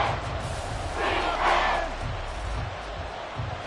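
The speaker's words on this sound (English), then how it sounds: "The Arrowhead crowd in full roar." Football crowd at Arrowhead stadium roaring as a sustained wall of noise, swelling loudly in the middle, with a voice faintly underneath.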